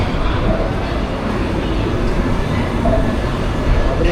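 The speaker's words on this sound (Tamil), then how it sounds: "திருச்செந்தூர் போகிற ட்ரெயின் இது." A steady low rumble of a passenger train bound for Tiruchendur fills the space at Madurai Junction station, broad and continuous, with a faint metallic whine surfacing briefly.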